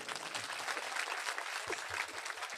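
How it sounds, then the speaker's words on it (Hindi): Steady applause from an audience at a poetry mushaira, a dense clatter of many hands clapping continuously throughout. "एक बार तालियां बजाइए"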